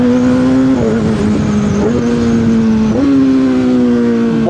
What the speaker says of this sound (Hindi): फर्स्ट गियर की बात करें, फर्स्ट गियर पे 110 जा रही है।